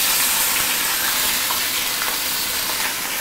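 Steady, loud sizzling and crackling of fish frying in hot oil, a continuous hiss with no talking.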